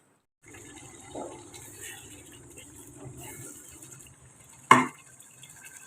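Rice poured into a pot of boiling water while making beef biryani, a soft bubbling wash with a sharp splash near the end, under a person talking.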